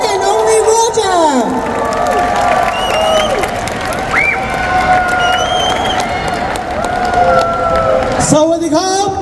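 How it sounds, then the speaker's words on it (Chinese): An audience at a Thai festival stage show in Hong Kong claps, cheers and screams throughout, while an amplified voice speaks over the crowd noise. "我想要掌声加尖叫声"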